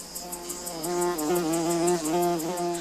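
Centris oil-collecting bees, including a Centris vittata female, buzz around short pieces of hollow bamboo cane set out as nests; a steady, close, droning hum with a harmonic whine that swells and wavers for a few seconds, with no talk.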